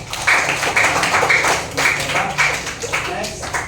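Short burst of rhythmic group clapping after a classroom presentation, quick repeated claps in a loose pulse, close and fairly loud, with voices mixed in.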